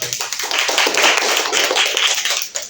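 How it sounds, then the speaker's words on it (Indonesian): A classroom of students claps their hands together, a loud, close, busy burst of many overlapping claps lasting under three seconds with a slight dip near the end. "Tepuk tangan."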